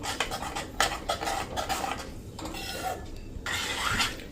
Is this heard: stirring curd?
yes